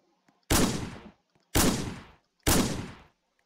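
Three loud gunshots ring out in a video game, evenly spaced about a second apart, each a sharp blast with a decaying tail and near-silence between.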